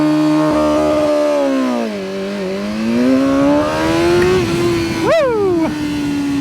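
BMW M1000R motorcycle held on launch control, a loud close engine drone that dips and climbs before a sharp rev spike and release, steady and unbroken throughout.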